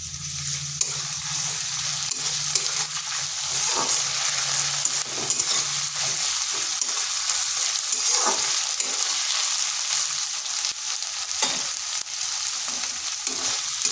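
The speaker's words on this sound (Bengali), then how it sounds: "আদা রসুনেরটাও একটু ভেজে নিচ্ছি যাতে তার কাঁচা গন্ধটা চলে যায়" Ginger garlic paste fries with onions in a pan, giving a loud, continuous close sizzle. A spatula scrapes and stirs at regular intervals throughout, with no talking.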